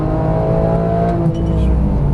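A Porsche GT3 at full throttle on a race track, its engine note loud, close and steady, holding a strong, continuous roar with rising harmonics throughout.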